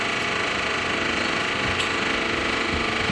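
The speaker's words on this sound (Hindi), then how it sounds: "हमारा एसी पता नहीं क्यों ऐसी आवाज़ें कर रहा है" A home air conditioner makes strange noises, a steady rattling mechanical hum with fine buzzing texture, continuous and fairly loud, with no talk.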